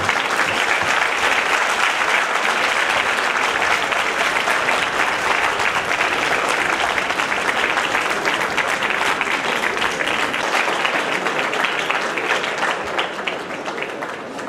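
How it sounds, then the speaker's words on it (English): Sustained, dense applause from a large audience at a speed drawing event, loud and steady throughout before easing slightly at the very end. "A huge round of applause, please."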